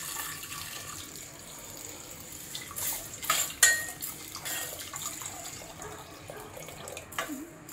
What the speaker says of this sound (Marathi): आता पाणी घालते मी।